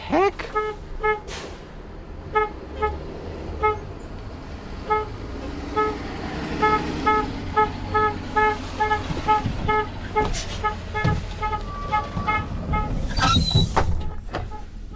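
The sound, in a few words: bus honking its horn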